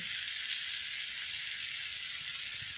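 Garlic pieces with ground coriander, cumin and a little mustard powder frying in hot oil for a mixed vegetable dish, giving a steady, even sizzle with no break throughout.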